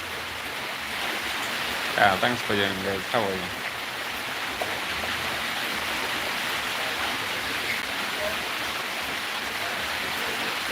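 Steady rain falls outside in a village, a constant even hiss running through the whole clip while someone talks briefly over it near the start.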